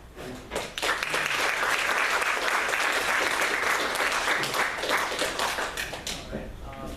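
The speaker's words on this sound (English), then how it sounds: "Let's give our speakers another round of applause" A debate audience applauds its speakers after a discussion on deer culling, a loud, sustained burst of many hands that swells quickly and tapers off near the end.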